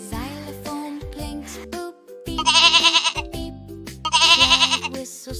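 Soft sheep bleats in a children's farm-animal cartoon, two loud wavering bleats over a bouncy music background.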